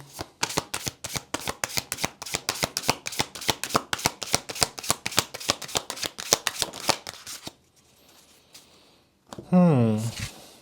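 A new tarot deck is shuffled in a fast, even riffle of papery card slaps for about seven seconds, then goes quiet before a brief voice breaks in at the end.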